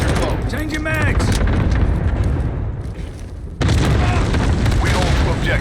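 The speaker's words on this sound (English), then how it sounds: "Allied cluster strike." Cluster strike explosions in a military video game, a heavy continuous barrage of deep booms and rumbling blasts, close and loud, with a sharp surge of renewed impacts midway and game radio voices faintly underneath.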